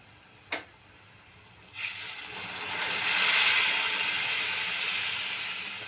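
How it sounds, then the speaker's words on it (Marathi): Hot water poured into a pan of hot oil and spices for a Marathi mutton curry gives a sharp tick, then a building, steady hiss and sizzle that swells and holds near the mic with no talk. "ह्याच्यात गरम पाणी घालून घेऊया।"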